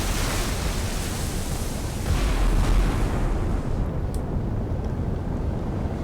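Shell hits exploding against the British battleship HMS Malaya in the naval game Sea Power, a dull continuous roar of blasts and rumble with a heavier surge midway, no voices.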